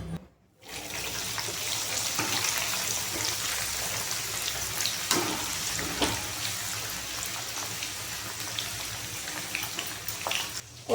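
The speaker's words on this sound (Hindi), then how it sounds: "बीन्स फ्राई होती है" Beans sizzling and frying in a pan of potatoes for a mixed-vegetable dish, a steady close hiss with small crackles and pops after a brief quiet start.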